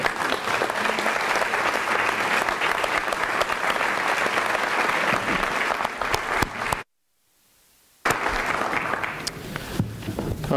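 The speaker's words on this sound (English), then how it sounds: "one last round of applause for the class of 2016" Sustained audience applause at a medical school white coat ceremony, loud and dense, broken by a brief near-silent gap before clapping resumes at full strength.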